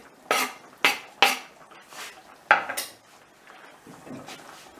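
A spoon clatters against a pot of simmering borlotti beans with parsley during stirring, then the lid is set back on, giving several sharp metallic knocks and scrapes spaced out over a few seconds in a quiet kitchen.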